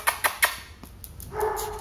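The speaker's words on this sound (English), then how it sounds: "who's barking?" A rescued dog barks three times in quick succession, fairly close and clear, followed by a few softer sounds and a steady tonal noise toward the end; no speech.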